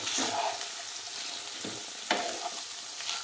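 Minced beef frying in a pan, a close crackling sizzle with a few sharp scrapes and clacks of a spatula stirring through the meat.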